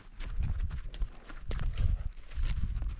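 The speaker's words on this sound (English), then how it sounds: "the baby horse is back." Soft, irregular clip-clopping of a foal's hooves moving on the ground outdoors, fairly close and quiet, with light background noise.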